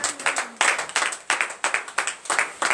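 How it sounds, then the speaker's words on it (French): A congregation at a Beninese morning prayer service claps in quick rhythmic bursts, sharp close hand claps pulsing in a steady beat with no talk over them. "Donnons l'acclamation à notre Dieu"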